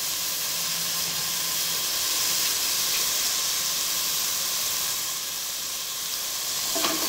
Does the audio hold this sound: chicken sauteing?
yes